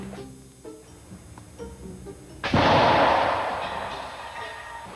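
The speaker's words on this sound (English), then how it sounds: "The team uses their first test shot to demonstrate the gun's force." A shotgun test shot blasts once, sharp and loud after a few quieter knocks and handling noises, then rings out and decays slowly over several seconds.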